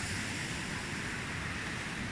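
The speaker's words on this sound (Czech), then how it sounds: "A moře je pěkný." Sea waves washing onto the shore, a steady broadband wash heard alone and fairly faint, with no voices.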